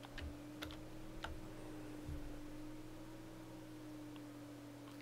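A few quiet, separate computer keyboard keystrokes, such as a Control and Enter combination, click faintly over a steady electrical hum.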